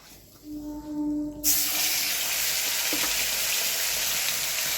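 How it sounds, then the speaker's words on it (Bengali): Chicken meat hits a hot oiled pan for kosha and starts frying: after a faint tone and some clatter, a loud steady sizzle bursts in and continues, close and bright. "এবার মাংসটা আমি কষবো আর তেল দেব না"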